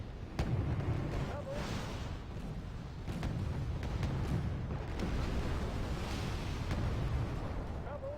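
Distant T-80 tank fire in the game Wargame Red Dragon, a continuous rumbling battlefield of muffled booms and scattered sharp cracks, with talk over it.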